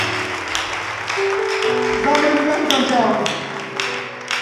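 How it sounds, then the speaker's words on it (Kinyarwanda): Audience applause fills a church show, steady clapping under someone speaking over it, with a sustained musical tone beneath. "amashyi menshi cyane"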